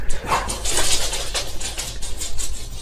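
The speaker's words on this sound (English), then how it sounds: "My dogs, the doorbell rang, so of course they have to tell the whole neighborhood." Several pet dogs bark in excited bursts after a doorbell, close and loud, with overlapping yaps and whimpers and no talk.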